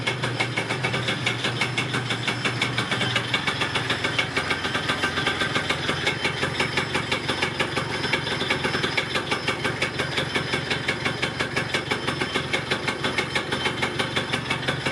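A Yamaha Neo's 50 scooter engine runs steadily at idle, a continuous buzzy two-stroke drone with a rapid even pulse throughout, close and loud with no talking.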